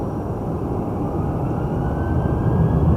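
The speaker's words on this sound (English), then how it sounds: "Over there we have a little business jet." Small business jet at an airport giving off a steady, broad engine roar heard from a moderate distance, slowly swelling louder across the few seconds with no voices.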